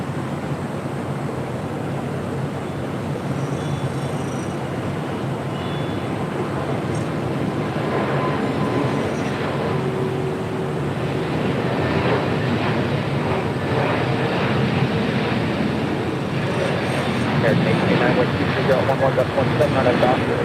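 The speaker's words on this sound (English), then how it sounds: "Next departure, Spirit Airlines Flight 3673 heading to Newark at an A321neo." A Spirit Airlines Airbus A321neo departing LAX for Newark gives a continuous broad engine roar that swells gradually toward the end, with a voice talking over it.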